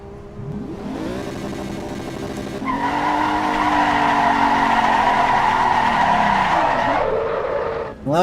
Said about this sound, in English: Who's doing rolling burnouts?